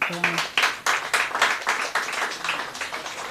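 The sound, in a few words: workshop audience applause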